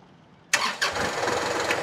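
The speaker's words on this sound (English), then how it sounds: "So we want to start up our tractor." A tractor engine cranks and fires, the starter catching abruptly and then settling into a steady, close, loud running rumble with no talk over it.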